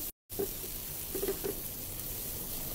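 Onions caramelizing in a hot pan for an Indian-style kingfish makhlouf: a steady, close, soft sizzle with a few brief crackling pops, and no voices.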